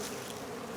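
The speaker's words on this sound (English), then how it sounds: "These are some of my bees." Bees buzz around hives outdoors in winter, a soft continuous droning hum heard faintly and alone for under a second.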